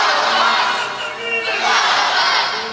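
Large religious gathering shouting Allahu Akbar in unison in reply to a Nara-e-Takbir call, two loud surging chant waves from a massed crowd, close and full, with no other talk.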